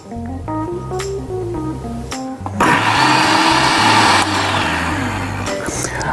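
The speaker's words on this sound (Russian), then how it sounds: "Смешиваем в блендере наши ингредиенты: творог, немного чернослива, орехи" A blender whirs loudly as it purées cottage cheese with prunes, nuts and honey, starting with a short, choppy pulse before the motor settles into a steady, high-pitched roar that holds until it winds down at the end.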